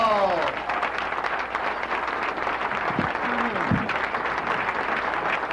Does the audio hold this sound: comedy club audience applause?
yes